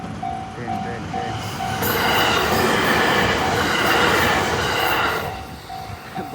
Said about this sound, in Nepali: Train train train.